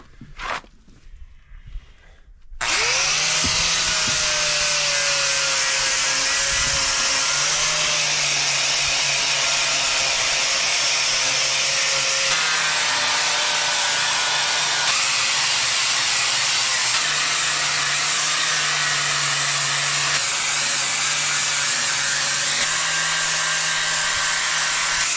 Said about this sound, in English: So I'm gonna get those all polished up first so we can get a nice good weld on it.